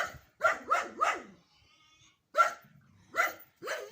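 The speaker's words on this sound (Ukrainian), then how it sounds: "На котів любить погавкати песик." A small dog barks at cats outdoors in winter: three quick close barks in a row, a pause, then three more spaced barks, loud and clear with no talking.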